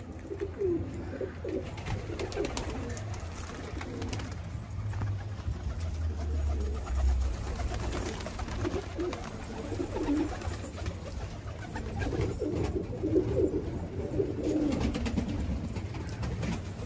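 Pigeons released from a coop make dense, continuous cooing and fluttering bird sounds at moderate loudness throughout, with faint background activity.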